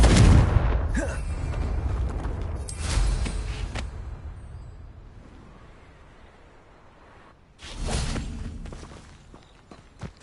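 Spell blasts from the Confringo fire curse in Hogwarts Legacy, heard as a loud burst at the start, another around three seconds, and a third near eight seconds, each decaying into a quiet rumbling tail.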